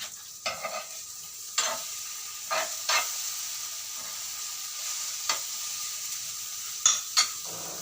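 An egg frying in a pan with a steady soft sizzle, broken by several sharp scrapes and clinks as it is stirred, heard close and alone.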